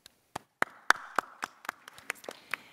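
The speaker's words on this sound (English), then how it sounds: "Let's give him a round of applause." Scattered hand claps from a panel-discussion audience, a dozen or so sharp separate claps over a few seconds, fairly close and sparse rather than a full roar, with no talking.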